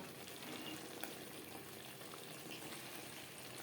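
Chicken biryani sizzles and fries in a pot over a high flame while being stirred, a steady close crackle with faint scraping, continuous throughout with no talking.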